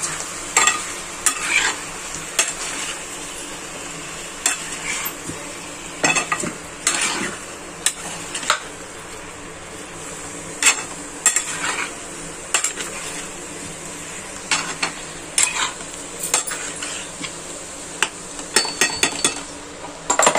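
Food sautéed and stirred in a pan, continuous frying sizzle broken by frequent sharp utensil scrapes and clinks against the metal, close and fairly loud throughout.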